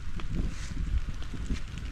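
Strong wind buffeting and roaring steadily, with rumbling gusts pressing on the microphone throughout.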